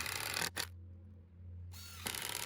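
A power driver sets screws through a wooden trellis crossarm into a post for a raspberry and blackberry T-trellis, sounding as two short, close whirring bursts with a quiet pause between them.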